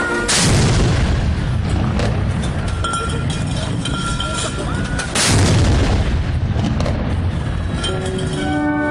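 Ceremonial 101-cannon salvo fired to mark the end of the war: two heavy booming blasts about five seconds apart, each rolling into a dense, continuous thunder of gunfire that stays loud throughout.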